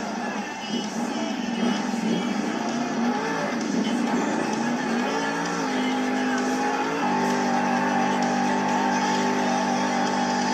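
A monster truck circles a stadium track at Monster Jam in Indianapolis, building speed. Its engine drones loud and steady, and the pitch rises and then holds high.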